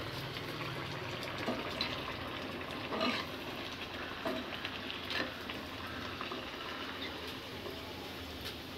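Semolina luchi deep-frying one at a time in white cooking oil make a continuous bubbling sizzle close by, with scattered crackles and occasional louder pops.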